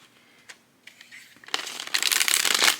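A few soft flicks of tarot cards, then a loud, rapid riffle shuffle, building into a dense crisp fluttering burst near the end.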